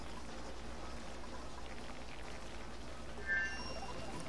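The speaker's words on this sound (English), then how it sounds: "we still have like drips of water coming down from, you know, the great flood" Water drips and pours inside the video game Oxygen Not Included, a soft continuous trickling patter heard alone at moderate volume, with a brief brighter splash near the end.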